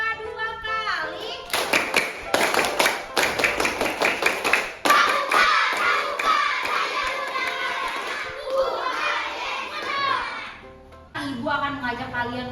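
Classroom children do a scout clap, a fast run of sharp unison claps in a steady rhythm, followed by loud chanting voices and more talking.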